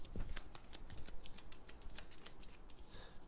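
Rapid riffling clicks of a deck of cards being shuffled, a quick flurry of crisp snaps close by, fairly quiet throughout.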